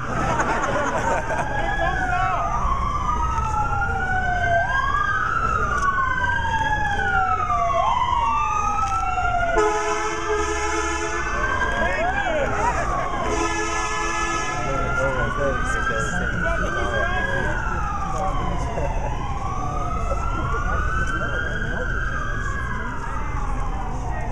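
An emergency vehicle siren wails past outside at a memorial cross rally, loud and steady, its rising and falling sweeps switching briefly to a fast yelp partway through, over crowd babble and road traffic.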